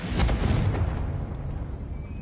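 A Confringo blasting spell explodes in Hogwarts Legacy, a loud, booming burst that hits at once and rolls off into a fading low rumble, with no talking over it.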